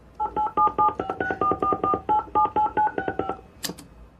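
A rapid run of telephone keypad tones, about fifteen beeps in quick succession, followed by a short click or ring burst.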